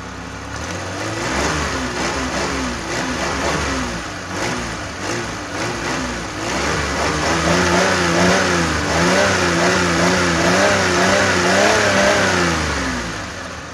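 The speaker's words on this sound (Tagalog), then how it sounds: "Ngayon, subukan nating i-revolution ang makina." A multicab's small engine revs up repeatedly, its pitch rising and falling in steady waves, loud and close with no talking, as it is tested after getting wet in rain and flood water.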